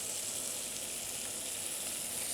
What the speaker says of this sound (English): always listening to the pan whilst I'm frying